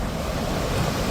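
Ocean surf along a shoreline several hours' drive from Melbourne, a steady broad wash of breaking waves with wind noise over the microphone, continuous and fairly loud with no voices.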